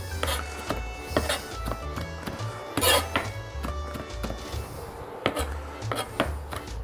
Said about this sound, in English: I'm just going to put a rough chop on this just for garnish